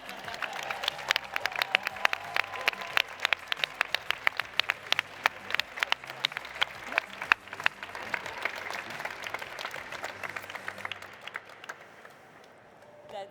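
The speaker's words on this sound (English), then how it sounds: "So a big round of applause to all them." An audience at a conference closing ceremony applauds at length, a dense patter of many hands clapping with sharp individual claps standing out before it gradually fades, and voices are heard beneath it.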